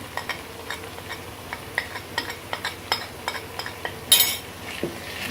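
Spoon scraping and clinking against a pan while salt, red chilli powder and turmeric are mixed into taro root curry, a steady run of light metallic taps and scrapes with one louder clatter near the end, no talk.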